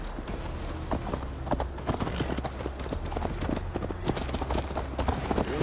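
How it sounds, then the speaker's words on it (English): Horse hooves clip-clop steadily at a ride in Assassin's Creed Valhalla on PS5, a continuous rhythmic trot over an ambient game soundscape, with no talk over it. "Mount up, Eivor. It's a long ride to Tamworth"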